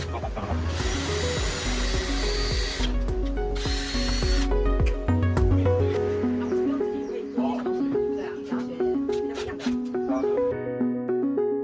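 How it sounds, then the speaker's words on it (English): Bursts of a power drill whirring and grinding holes into a wooden table frame, with pauses, clicks and tool handling between, over background music. "we have to drill holes in the center as well as a nail to secure the frame"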